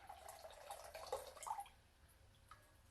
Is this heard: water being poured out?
yes